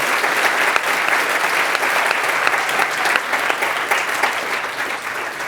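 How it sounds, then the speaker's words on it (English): Steady, dense applause from a live audience at a climate-action panel discussion, loud and close for the whole stretch with no break. "All right, let's give them a round of applause."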